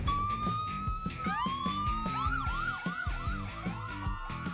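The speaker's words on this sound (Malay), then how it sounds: "membeli motosikal ada siren" A siren on an enforcement motorcycle wails in a steady tone, then shifts into a rapid rising-and-falling yelp, loud and continuous against low rumbling traffic noise.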